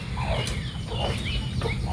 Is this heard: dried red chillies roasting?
no